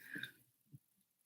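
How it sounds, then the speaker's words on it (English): A short, low burp after drinking coffee, followed by a second softer burst, both quiet and close with near silence around them. "I burp off coffee."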